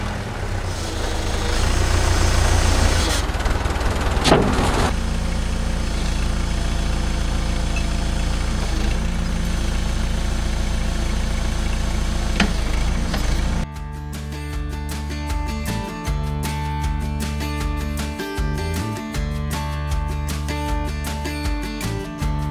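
A 60-year-old backhoe engine idles loud and close with a rough, knocking rumble, then shifts to a choppier, rhythmic throb for the last stretch, with no talking.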